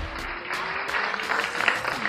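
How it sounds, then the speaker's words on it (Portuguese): A small group claps on a New York Fifth Avenue street, moderately loud bursts of clapping building over steady traffic-like background noise. "Eu quero aplausos."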